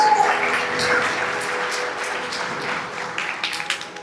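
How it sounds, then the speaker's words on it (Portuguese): A lecture audience at Senac in São José dos Campos claps together, a steady wash of applause that slowly thins toward the end. "Uma salva de palmas para a melhor montanha russa já feita no Senac de São José dos Campos"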